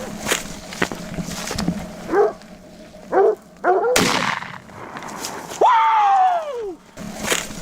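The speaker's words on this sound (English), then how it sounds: "The shot was fired quickly and accurately," A single sharp, loud gunshot fired at a bear in the wilderness, cutting through barking dogs and human yells, with a howl or cry trailing after the blast.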